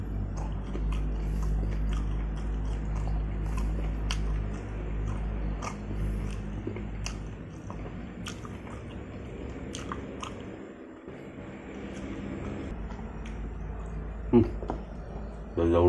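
Raw jengkol being bitten and chewed up close in a Sundanese raw-vegetable meal, with soft crunchy bites and wet mouth sounds under quiet talk and faint background hum.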